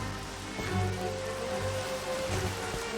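Rainy weather in the Minecraft video game, a steady wash of falling rain with soft patter, moderately quiet and continuous throughout with no talking.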